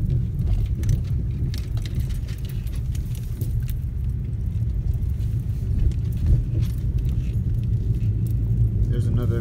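Car engine rumbling steadily while driving slowly around the grounds of Connecticut Valley Hospital, with continuous low road noise, light interior rattles and a voice talking over it.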